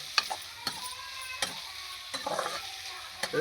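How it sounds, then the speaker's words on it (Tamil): Onions frying in oil with mustard seeds and cumin for a Tamil onion-tomato thokku, with a steady close sizzle broken by a few sharp stirring scrapes and clinks, no voices. "கடுகு சீரகம் போட்டோம் அரை கிலோ வெங்காயம் சேர்த்துக்கிறோம்"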